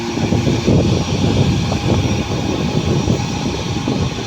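A passenger airplane takes off from an airport, a loud continuous engine roar rumbling steadily throughout with no voices over it.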